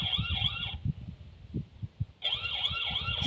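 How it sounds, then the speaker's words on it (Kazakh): A security camera's built-in siren wails with a loud, warbling electronic tone, cuts out for over a second, then starts again, with low thumps underneath. "Сирена жүріп тұр."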